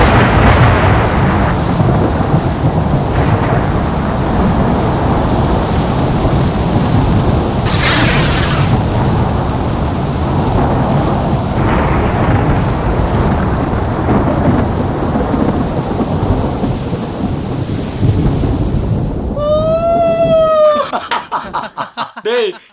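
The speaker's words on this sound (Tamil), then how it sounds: "இடி சத்தம் கேட்டது." Heavy rolling thunder rumbles continuously through a storm with rain, loud and close, a brief higher whoosh midway, and a rooster crowing near the end as the storm noise drops away.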